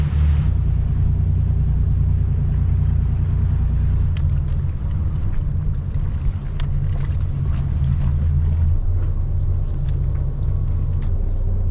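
Loud, steady low boat engine rumble drones throughout, with wind buffeting and a couple of faint metallic ticks.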